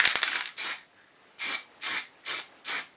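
Stove enamel aerosol paint sprayed onto a Lucas DR3a wiper motor field coil, in five short hissing bursts of about a quarter second each, separated by brief pauses, with a couple of faint clicks at the start.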